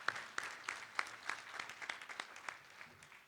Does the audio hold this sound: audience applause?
yes